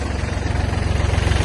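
A Kubota GL-25 Japanese mini tractor with a cab idles close by, its engine giving a steady low, rhythmic thrumming pulse throughout, with no talking.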